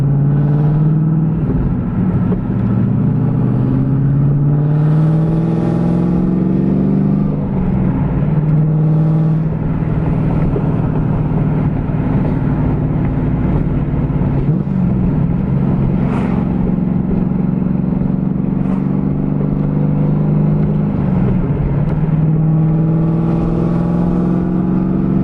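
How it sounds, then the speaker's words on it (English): Heavy, loping exhaust from a big-cam Pontiac WS6 while cruising at night, a deep steady drone with repeated rises and falls as the engine pulls through gears, recorded from inside the car. "Hopefully that window is letting you hear the exhaust and not just air."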